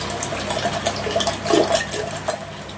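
A juice jug being rinsed and washed with water, continuous splashing and trickling with a few clinks of the vessel, close and fairly loud, no talking.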